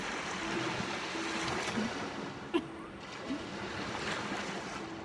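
Small waves wash and lap against rocks right by the water's edge close to where someone is sitting, a steady broadband surf wash with gusts of wind noise on the microphone.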